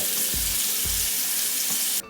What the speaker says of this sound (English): we're gonna water floss now